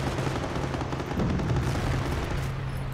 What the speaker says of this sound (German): Die haben halt jetzt drei Artillerie-Schütze, die ohne Pause auf uns ballern.